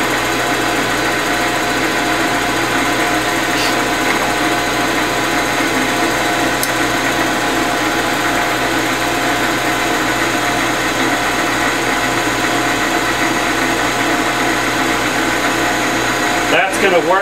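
A drill press runs steadily after a restart, a loud continuous motor hum with tonal whine held throughout, ending in a short clatter.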